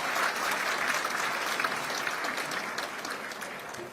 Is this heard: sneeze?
no